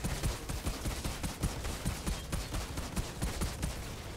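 Rapid gunfire in the shooter game Outriders, a dense run of quick shots crackling steadily with some irregular bursts, moderately loud and continuous with no talk over it.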